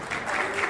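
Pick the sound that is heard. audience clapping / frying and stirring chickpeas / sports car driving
audience clapping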